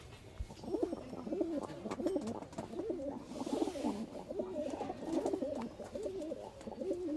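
Several Giribaz pigeons in a loft give repeated soft, rolling coos one after another, close by and clear, over faint background noise.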